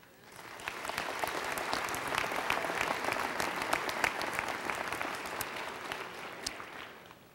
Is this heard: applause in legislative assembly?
yes